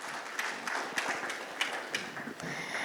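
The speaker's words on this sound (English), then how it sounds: "Let's have a huge round of applause." An audience at a panel discussion on AI in warehouse management welcomes the moderator with applause, a brief moderate round of clapping with some louder single claps standing out.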